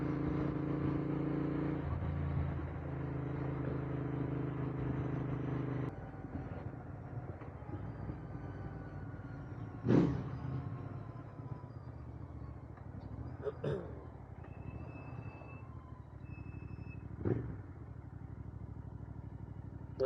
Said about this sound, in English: The first mod that I did on this bike was the Scorpion exhaust, and I must say they do sound fantastic.